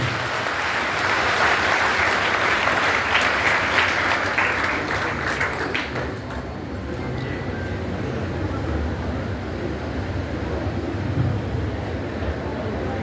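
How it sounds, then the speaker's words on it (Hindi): An audience at a Hindi education gathering breaks into loud, sustained clapping that fills the room for several seconds, thinning slightly toward the end over a steady room rumble. "जोरदार ताली होनी चाहिए"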